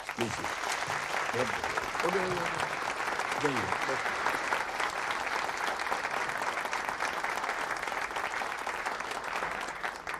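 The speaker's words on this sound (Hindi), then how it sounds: "ताली बजाइए जोर से आप लोग।" Classroom applause, dense and steady clapping from a roomful of students lasting throughout, with a few voices audible over it near the start.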